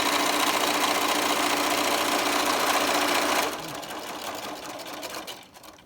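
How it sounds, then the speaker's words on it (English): A sewing machine stitches a seam on a cloth face mask, running loud and steady for about three and a half seconds before slowing and stopping, with softer mechanical whirring trailing off afterward. "Now sew this seam all the way."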